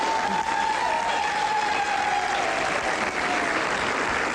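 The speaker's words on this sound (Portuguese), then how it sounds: "Então passava palmas para vocês, vá lá" A studio audience of ladies on a Portuguese TV afternoon talk show applauds in a continuous, steady roar of clapping, with a faint sustained tone running underneath.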